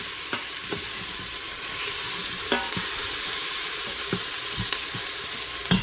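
Salt and pepper being stirred into a soup pot of sausage and cabbage soup, with a steady sizzling hiss and scattered scrapes and clinks of the spoon against the pot, close and continuous.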